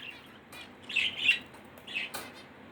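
A pet bird gives several close, shrill squawks and chirps in short bursts over a quiet room, with a couple of sharp clicks between calls.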